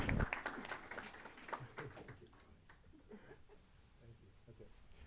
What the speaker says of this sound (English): let's give Drew a round of applause